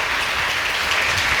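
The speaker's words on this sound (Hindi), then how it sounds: "एक बार तालियों से धन्यवाद कीजिएगा।" An audience at a memorial discussion and award ceremony gives a short burst of continuous applause, fairly loud and even throughout.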